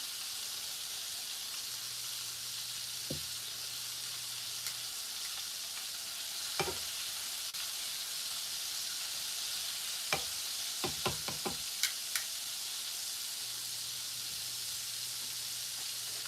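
Oil sizzles steadily and quietly under everything as Korean fried chicken fries, with occasional sharp pops and clicks scattered through, no talking.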